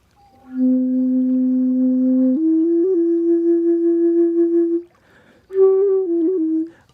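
Native flute played dry without reverb, sounding as long sustained breathy tones that step up in pitch, then a short pause before one more held phrase with small pitch bends. The flute is heard alone.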